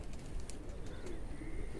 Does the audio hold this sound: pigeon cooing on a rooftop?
yes